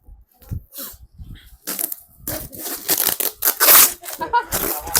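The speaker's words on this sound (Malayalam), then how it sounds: "ഗിഫ്റ്റ് പൊട്ടിക്കാനുണ്ട് പൊട്ടിച്ചേ" Birthday gift wrapping torn open during an unboxing, with bursts of ripping and crackling paper that grow louder and denser toward the end, mixed with nearby voices talking.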